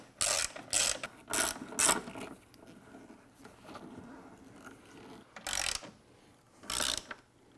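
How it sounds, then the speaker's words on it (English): A 6 mm Allen key with a ratcheting action tightens a hinge reinforcement bracket on a Jeep Wrangler JL spare tire relocation kit, giving several short bursts of close ratcheting clicks separated by pauses. "we'll grab our 6 mil Allen, and we will tighten down the hinge bracket"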